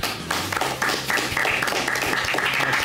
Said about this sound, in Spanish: Vamos a darle la bienvenida con un aplauso grande,